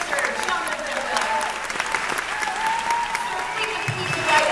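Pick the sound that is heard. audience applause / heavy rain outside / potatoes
audience applause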